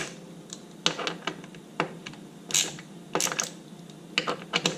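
Ratchet with a deep well 12mm socket tightening a slip-on exhaust bolt on a Royal Enfield Interceptor, heard as quick bursts of close, dry clicking in several short runs with brief pauses between them.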